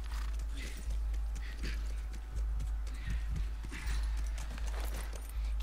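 Horse hooves clip-clopping in The Last of Us video game, a steady trotting rhythm of hoofbeats under a low rumble, continuing evenly across the stretch.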